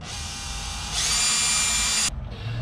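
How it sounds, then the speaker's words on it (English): A power drill boring a pilot hole during maintenance on a Hallberg Rassy 54 sailboat, a steady whine that jumps louder and higher midway, then cuts off abruptly near the end, with no talking. "Always start off with a pilot drill."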